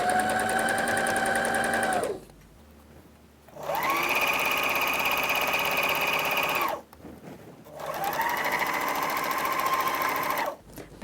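A sewing machine stitches a side seam on a dress skirt in three sustained, loud whirring runs separated by short pauses, the motor pitch rising at each start and dropping at each stop.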